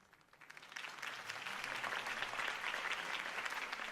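Crowd applause in the video game Batman: The Telltale Series swells from scattered claps into sustained, steady clapping, heard alone at a moderate distance.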